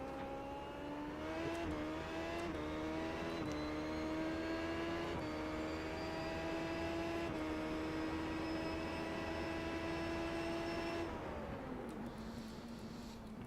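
A race car with carbon brakes drives to warm its tires and brakes, its engine holding a steady droning tone that climbs slowly through gear changes before easing off near the end.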